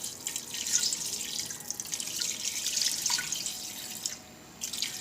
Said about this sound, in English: we're going to cover these with water